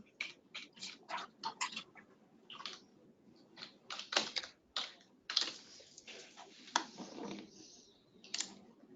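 Fingers type on a computer keyboard in fast, uneven bursts of close, crisp key clicks with short pauses between, while data is entered into a training records system.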